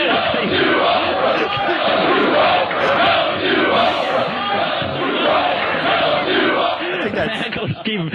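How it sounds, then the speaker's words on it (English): A comedy show crowd chants loudly and steadily in a packed room, rhythmic massed voices filling the space throughout with brief cheering near the end. "The crowd's chanting"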